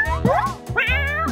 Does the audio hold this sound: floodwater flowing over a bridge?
no